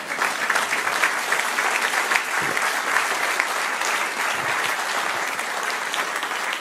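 A church congregation claps steadily and densely for several seconds, a full room of applause without pause and no clear talk over it.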